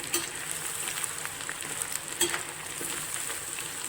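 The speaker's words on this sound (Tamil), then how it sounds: "சிக்கனை போட்டதுக்கப்புறம் தீயை வந்து நல்லா மீடியமாக வச்சுட்டு அப்படியே பரட்டி விடுங்க" Chicken 65 pieces fry in masala over a medium flame, giving a steady, moderate sizzle with occasional scrapes and clinks of stirring, heard close and without speech.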